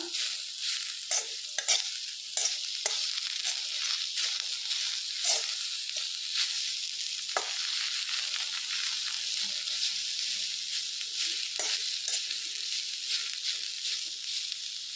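Coriander and curry leaves sautéing in a pan. A bright continuous sizzle runs throughout, with frequent scrapes and taps of a spatula in an uneven stirring rhythm, heard close by.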